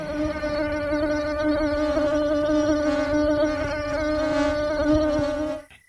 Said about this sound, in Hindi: तुरंत ही दोनों मच्छर वहां से उड़कर भाग